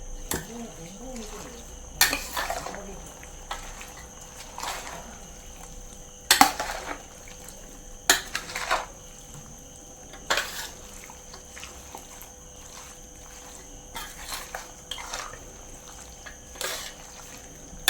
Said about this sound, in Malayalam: വിനാഗിരിയും ഒഴിച്ച് നല്ലപോലെ മിക്സ് ചെയ്ത് വെക്കാം